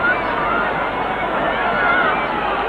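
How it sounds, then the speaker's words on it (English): Crowd roaring steadily at a 1989 WAFL Australian football match between East Fremantle and South Fremantle, a dense sustained wash of voices that stays loud and unbroken throughout. "Crowd have been roaring for 10 minutes without stopping."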